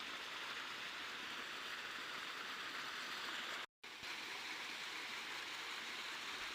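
Water from a spring pours and rushes in a steady, broad hiss near a village in Haripur, continuous and unbroken apart from a brief dropout, with no voices.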